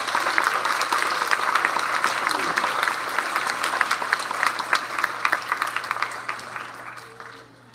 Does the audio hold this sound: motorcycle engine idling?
no